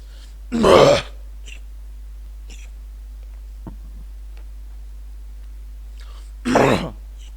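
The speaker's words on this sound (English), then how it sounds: "That is me coughing up and clearing phlegm" Two separate harsh bursts of a man coughing and clearing phlegm from his throat, close and loud, several seconds apart over quiet room hum, with faint small noises between.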